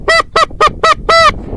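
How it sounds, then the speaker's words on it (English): Five loud, close goose honks come in a quick rhythmic series, the last one held a little longer, out in the open during a late-season hunt, with no one talking. "That was not all them geese though."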